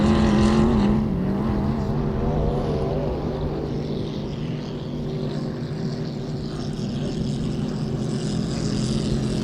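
Continuous droning roar of 5-liter class racing boat engines in a heat race, steady and fairly distant, with a low rumble and a slight rise and fall in pitch.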